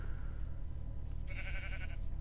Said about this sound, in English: Why is it every Minecraft series I do, there is sheep everywhere?